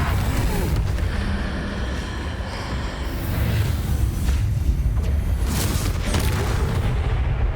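A Confringo fire spell in Hogwarts Legacy sets off a deep, rumbling blast that rolls under continuous loud game noise and lingering low booms.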